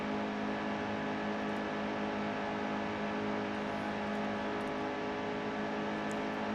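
In NASCAR Heat 2, racing trucks run in a pack, making a steady, dense, droning engine roar at constant pitch throughout, loud and close without talk.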